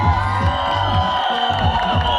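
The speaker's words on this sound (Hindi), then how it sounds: "और ये तालियां ऐसी बजती रहनी चाहिए" An excited theater audience at a movie trailer launch in Mumbai cheers and whoops in a steady, dense wash of crowd noise that continues without a break.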